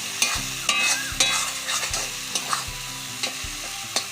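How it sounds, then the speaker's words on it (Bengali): Masala with pointed gourd and prawns fries loudly in a pan while being stirred, giving a steady sizzle broken by regular scraping strokes of the spoon, close and without speech. "এটা ভালো করে নেড়ে দিচ্ছি"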